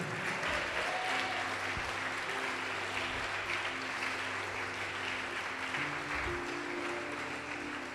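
A church congregation applauds in praise during a sermon, sustained and dense clapping from many hands that fills the room at a steady level, with no voices rising above it.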